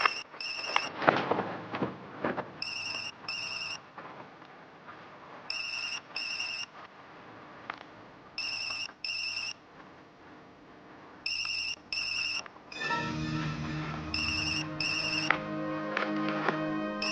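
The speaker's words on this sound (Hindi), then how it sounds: "बेल बज रही है।" A mobile phone rings in repeated short electronic bursts, paired beeps recurring at a steady rhythm over background music and ambience, growing fuller and louder toward the end as it is approached.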